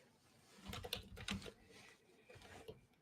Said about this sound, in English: Sorry, I'm gonna be typing now.